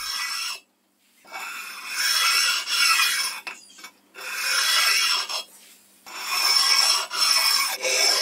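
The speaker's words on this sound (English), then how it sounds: "I'm using a bench stone to abrade them smooth" A bench stone rubs burrs off the edges of a metal lathe bed on a CJ0618 7x12 lathe, making close, rasping abrasive strokes in several bursts separated by short pauses.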